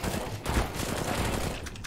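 Dense burst of video-game gunfire on the Office map, several overlapping shots in a rapid, loud fusillade that fills the short moment with no voices over it.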